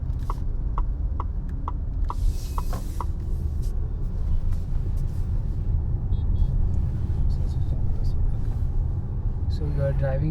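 Steady low road rumble and hum inside a Tata Harrier EV electric car with quad-wheel drive, driving through town in city mode, a continuous cabin drone with a few faint ticks and no engine note.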